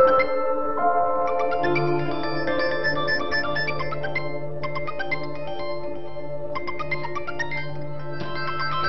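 A phone ringtone plays a repeating electronic melody over several seconds, fairly clear and steady with a low hum beneath.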